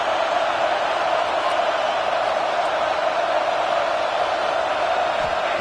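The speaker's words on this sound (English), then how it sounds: "this crowd is fired up. Listen to this noise here." A fired-up crowd at a college football game between UT and UGA roars steadily and loudly throughout, a dense continuous wash of many voices with no breaks.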